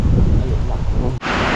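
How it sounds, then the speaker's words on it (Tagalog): A sudden heavy rain downpour roars loud and close in a dense, constant wash, cutting out for an instant before surging back just as strong. "biglang bumuhos yung ulan"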